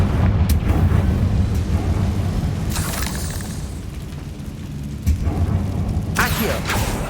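A Confringo blasting curse explodes in Hogwarts Legacy as a deep sustained boom with rumbling low end, followed by sharper bursting cracks near the middle and end, loud and close.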